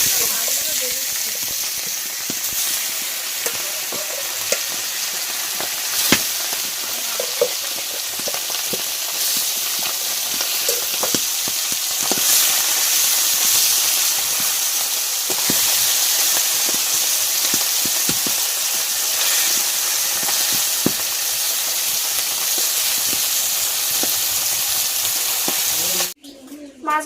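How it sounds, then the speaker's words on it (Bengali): Fish fry in hot mustard-free cooking oil in a kadai, giving a loud, continuous close sizzle with crackles and occasional stirring clinks throughout, ending abruptly. "কড়ার তেল গরম হয়ে গেছে, মাছগুলো দিয়ে দিচ্ছি।"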